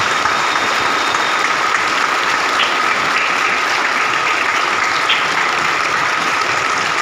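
Sustained, dense applause from an audience at an International Indigenous Peoples Day event, a steady wash of many hands clapping at once, loud and even throughout with no voices standing out.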